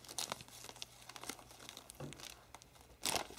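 Cellophane crinkles and rustles close up in irregular bursts as it is tied over a fall gift basket with thin ribbon, with a louder crackle near the end.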